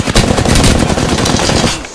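Rapid automatic gunfire from the video game Apex Legends, loud and dense bursts filling nearly two seconds before cutting off at the end.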